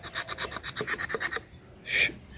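Bark is scraped off a lychee branch for air layering, a close, loud rhythmic rasping of quick strokes that stops after about a second and a half, followed by one softer scrape.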